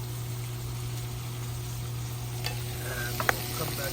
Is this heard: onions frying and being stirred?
yes